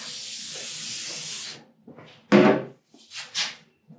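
A sharp hiss of aerosol lubricant spray in one long burst, then a short intense spurt and two quicker puffs, close up.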